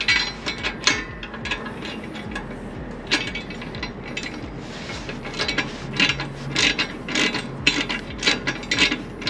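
A 7/16 ratchet wrench and socket tightens a bolt on a lower control arm skid plate for a Tacoma or 4Runner, giving close, loud bursts of rapid metallic clicking in uneven strokes with short pauses between.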